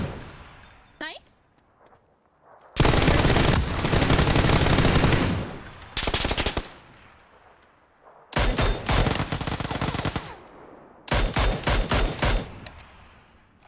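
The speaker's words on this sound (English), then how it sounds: "I shot this guy like 60 times" Rapid automatic gunfire from the PUBG video game on the Miramar map comes in three loud, sustained bursts separated by quieter gaps, while players talk over the action.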